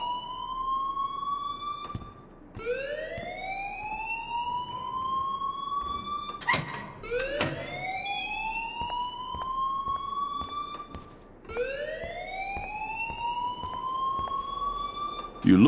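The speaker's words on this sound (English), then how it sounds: "please turn off that alarm since that's your job." A fire alarm in the Life is Strange video game wails in loud, repeating rising sweeps, each tone climbing then holding, with a brief gap and a sharp burst of noise partway through.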